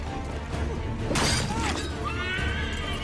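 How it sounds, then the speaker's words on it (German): A horse in Assassin's Creed 3 lets out a short, sharp whinny in the middle of other game sounds, including a brief shattering crash, with someone talking over it. "Ich hab ein Pferdchen gekillt."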